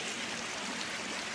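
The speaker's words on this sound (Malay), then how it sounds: "sekarang kami tiba di air di Sungai Batu Putih" A stream at Sungai Batu Putih on Gunung Jerai rushes steadily as a broad, even wash of flowing water, close and continuous with no voices.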